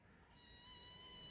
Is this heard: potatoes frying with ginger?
no